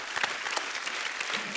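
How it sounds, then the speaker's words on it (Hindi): Brief burst of audience clapping for performers on a television comedy show, dense and steady with individual claps poking through, close and lively, no speech on top. "जोरदार तालियां हो जाए एक बार हमारे कलाकारों के लिए"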